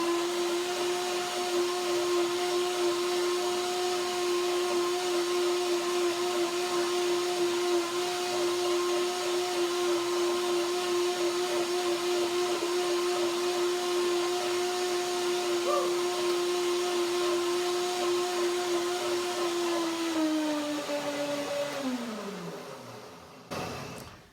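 A blender whirs at a steady high pitch for a long stretch blending cashew cream dressing, then winds down and stops near the end.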